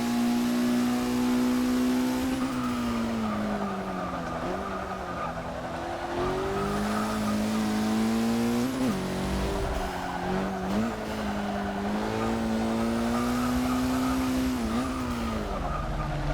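A 2006 Mitsubishi Lancer Evo IX MR laps a track in Forza 6, its engine droning steadily and rising and falling through gear changes, with tires squealing through corners, loud and continuous.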